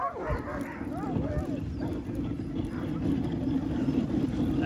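Sled dogs on a snowy winter dog sledding trip in Huntsville, Ontario, heard as a steady, close din of barking, yelping and rustling that runs continuously through the clip, with people talking over it.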